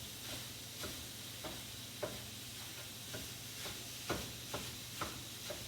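A mincing tool breaks up a pound of meat for chili in a pan, with repeated close scraping and tapping strokes over a steady low sizzle and hum, with no talking.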